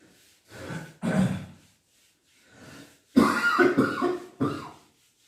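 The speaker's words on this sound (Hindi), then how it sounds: "इसलिए हल्की फुल्की खांसी हो गई है लोगों को, हर किसी को है, सीजनल खांसी है" Several harsh coughs from a person with a seasonal winter cough, in loud separate bursts with a pause between groups, close and alone.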